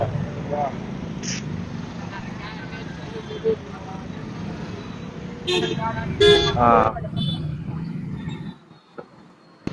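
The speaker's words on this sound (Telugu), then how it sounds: "కార్ హార్న్ పెట్టించాడు" Short car horn toots sound over a rumble of night traffic at a crowded beach road in Vizag, with a brief burst of honking near the end, and voices nearby.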